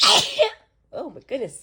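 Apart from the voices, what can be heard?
person sneezing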